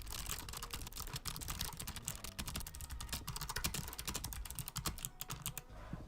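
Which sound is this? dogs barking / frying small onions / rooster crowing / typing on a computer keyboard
typing on a computer keyboard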